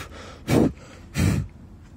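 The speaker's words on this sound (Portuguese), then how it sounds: "deixa eu só soprar aqui" Two short puffs of breath blown to clear dust from a drilled hole while fitting standard linen-pattern MDF drawer fronts and doors, each puff about a quarter second long, close and fairly loud, with quiet in between.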